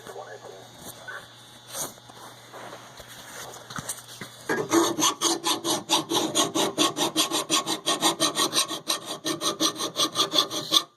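Knife edge filed with a hand file: after a quiet stretch with scattered clicks, rapid back-and-forth rasping strokes start and repeat in a fast even rhythm, close and prominent, continuing to the end.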